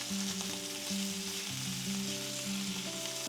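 Steak sears in a hot pan with a steady, close sizzling hiss that runs unbroken through the whole moment, while tonal background music plays underneath.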